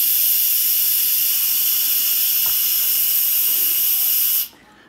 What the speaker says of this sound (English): the steam will be released and reducing the pressure inside the pot